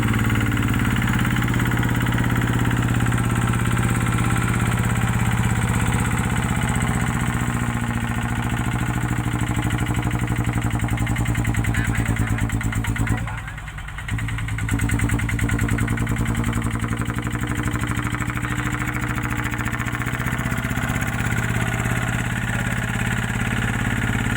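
A Thai e-taen farm truck engine drones continuously in second gear, loud and close, with a brief dip in the middle.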